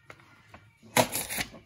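A page torn from a tear-off calendar, a quick papery rip lasting about half a second after a few faint soft taps, close and fairly quiet.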